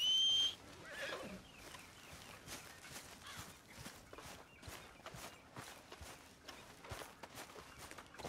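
A horse in Red Dead Redemption 2 gives a short whinny at the start, followed by a steady run of hoof clip-clops near the listener, with faint background game ambience throughout.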